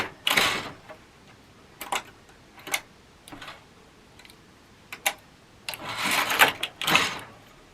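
A knitting machine carriage runs rows of wire in short bursts of ticking, clattering mechanical noise, separated by quiet pauses, with a longer double pass near the end; close and fairly loud, with no talking.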